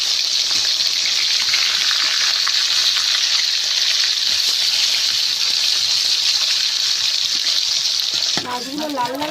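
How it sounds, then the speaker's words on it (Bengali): Fish frying in hot oil in a village kitchen gives a loud, steady, dense sizzle that runs throughout, with a voice briefly heard as it ends. "মাছগুলো লাল লাল করে ভাজেছি"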